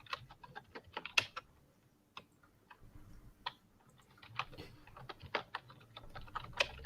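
Rapid, forceful keystrokes hammer a computer keyboard in angry bursts, sharp clicks clustered with brief pauses, close and fairly quiet with no talking.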